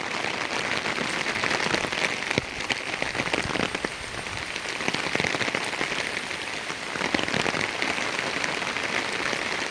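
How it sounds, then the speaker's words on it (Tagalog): Heavy rain from a typhoon pours steadily over flooded rice fields, a dense hiss of drops pattering on surfaces with occasional louder splashes, continuous throughout. "Grabe talaga yung ulan mga lods."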